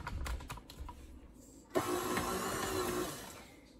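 A stand mixer working thick pretzel roll dough gives a short whirring burst after some faint clatter, quiet and close, with no talk.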